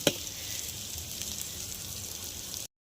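Masala spice powder frying in a pan for chicken curry, a steady soft sizzle after a brief clink at the start, moderately faint and close, then an abrupt cut to silence.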